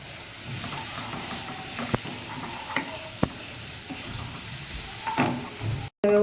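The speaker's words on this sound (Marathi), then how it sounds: "त्याच्यामध्ये आता आपण बारीक चिरलेली लसूण टाकायची. तिलाही व्यवस्थित फ्राय करून घेऊया आपण." Finely chopped garlic sizzles steadily in hot oil in a pan, a continuous close frying hiss broken by a few sharp knocks and stirring clicks, with no talking.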